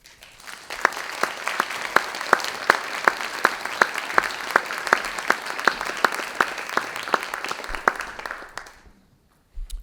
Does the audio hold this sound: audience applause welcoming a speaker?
yes